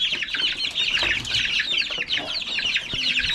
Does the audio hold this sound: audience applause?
no